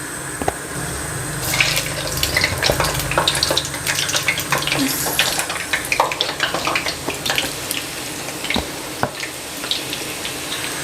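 Chicken mini rolls frying in hot oil on a stove, a steady close crackle and sizzle with scattered sharp pops and spits running through the whole stretch.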